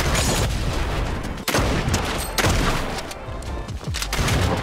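Rapid gunfire in Fortnite rattles in dense, loud bursts, with repeated shots and heavy impacts filling the whole stretch.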